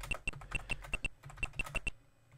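Keys clack on a computer keyboard while typing in the Mario Teaches Typing game, about a dozen crisp close taps in quick uneven bursts, then trailing off into quiet.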